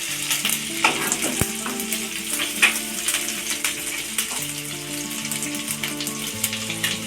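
Grated ginger frying in a pan over a low gas flame, a steady close sizzle with small crackles and a few sharp stirring taps, no voices.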